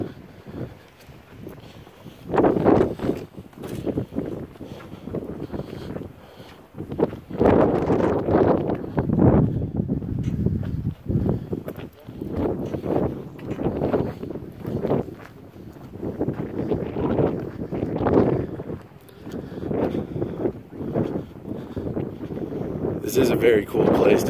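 Strong wind gusts at Meteor Crater, Arizona buffet the microphone in loud, uneven roaring bursts that continue throughout with only brief lulls.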